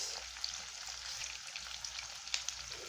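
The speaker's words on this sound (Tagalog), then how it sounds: "paluto na ang ating sibuyas" Sliced onions sizzle in hot cooking oil in a pan, a steady close frying hiss with scattered small pops and crackles, no talking.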